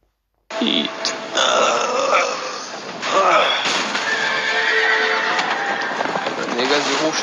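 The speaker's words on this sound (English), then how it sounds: "the horses are escaping" Horses in a video game neigh and whinny loudly several times as they escape, with snorts and hoof clatter mixed in, close and busy throughout.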